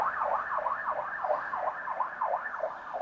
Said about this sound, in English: Can you guys hear the ambulance on the recording?